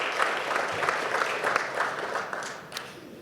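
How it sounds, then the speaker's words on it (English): A room of people applauds at a medical center press conference, a brief, even patter of many hands clapping at moderate volume, alone without talk, tapering slightly at the close. "deserves certainly a round of applause"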